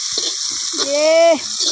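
Sliced onions sizzle and spit in a hot pan under steady frying hiss, with a person's voice and brief chatter partly over it.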